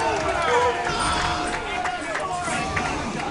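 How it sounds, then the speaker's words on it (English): Dense crowd noise at a Marvel vs. Capcom 3 fighting game tournament, a continuous roar of many voices chanting and cheering together, loud and sustained throughout with no pauses. "Crowd chanting Fooblat's name."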